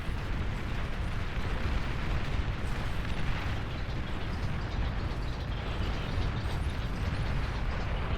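Bombers making a bombing run in the strategy game Beyond All Reason, heard as a dense, continuous rumble of overlapping explosions that stays loud and even for the whole stretch, with no voices.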